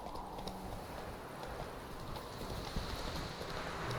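Horse hooves from the video game Witcher 3 clop in a steady galloping rhythm, close and continuous over a broad, noisy game soundscape with no talking.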